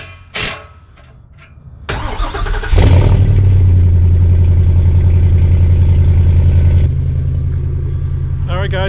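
A Ford F250 with the 7.3 gas engine fitted with an MBRP exhaust starts with a crank, catches and settles into a loud, deep, steady idle rumble, with brief voices before it fires.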